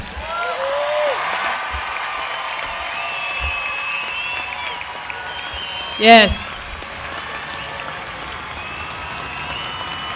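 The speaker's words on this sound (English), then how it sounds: "let's give these graduates a round of applause." A graduation audience at East View High School applauds the graduates with sustained, fairly distant clapping. One short spoken word and a sharp nearby knock come midway.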